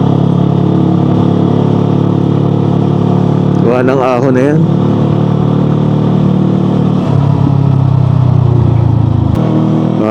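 A motorcycle engine labors continuously up a steep, hot uphill road, a loud, close, steady drone with slight pitch changes, while a rider talks over it.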